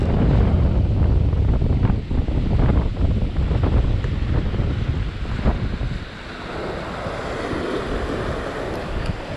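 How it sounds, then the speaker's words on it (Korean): Strong wind buffets the microphone over rough waves at sea from a fishing spot, a loud continuous roar that eases somewhat after about six seconds. "파도가 지금 이렇게 세고 바람도 센데"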